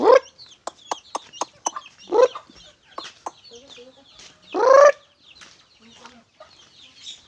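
Chickens feeding on organic feed cluck and squawk in short bursts close by, with busy overlapping calls and a few louder drawn-out cries among the flock.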